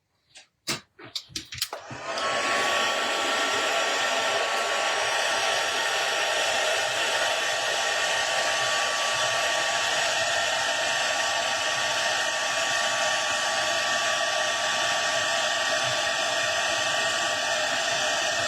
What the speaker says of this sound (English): I will just have to get that heat tool out again as well.